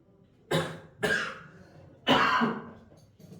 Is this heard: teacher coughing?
yes